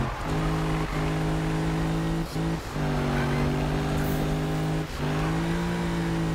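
Car engine and exhaust in the video game Need for Speed 2015, a loud, steady droning engine note that holds and shifts pitch slightly, with brief dips like gear changes and no talk.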